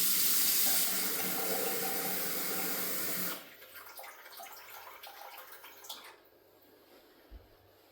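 Tap water runs steadily into a blender jug, filling it toward the 500 ml line for a mandarin marmalade batch; the loud broadband rush lasts about three seconds, then cuts off, leaving faint drips and small clinks.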